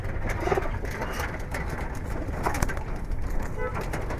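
Giribaz pigeons cooing softly while being handled in a village loft, low murmuring coos close by under a steady background hum with a faint engine in the distance.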